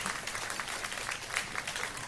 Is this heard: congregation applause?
yes